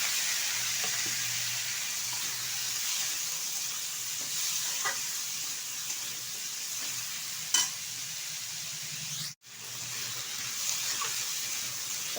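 Chopped potatoes fry with shrimp in a pan, a steady close sizzle with occasional stirring scrapes and clinks, briefly cut out by a short gap near the end before the frying resumes.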